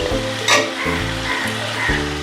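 Shrimp and ridge gourd fry in hot oil with a steady close sizzle, broken by a few loud scraping stirs from a spatula across the pan, no voices.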